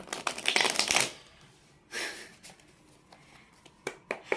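Tarot cards are pulled and shuffled from a deck: a dense riffle of papery flicks at first, then a lone swish and a few soft taps, close and quiet.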